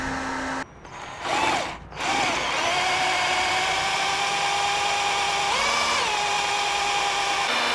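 A power drill whines steadily at high speed after a couple of short bursts, its pitch dipping briefly as it bites into metal, drilling off a stripped screw head on a Honda CB360 motorcycle exhaust.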